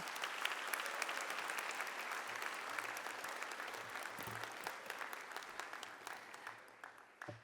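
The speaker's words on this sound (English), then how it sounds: "Give yourselves a round of applause." Audience applause at a university convocation, a broad wash of clapping from a large crowd that holds steady, then thins and fades toward the end, heard from a distance.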